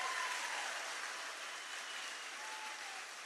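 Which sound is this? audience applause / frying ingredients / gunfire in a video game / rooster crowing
audience applause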